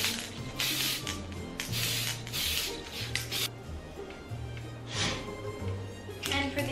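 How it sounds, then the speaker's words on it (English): Repeated bursts of aerosol spraying onto a reindeer cake, broad hissy puffs recurring every second or so over a steady low musical drone. "I'm going to spray this on first and then put on some gold edible sparkles"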